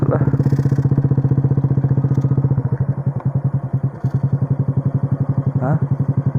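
Motorcycle with a loose exhaust idling close by, a steady rapid low putter with a rattly edge that runs throughout and loosens into uneven chugging pulses toward the end.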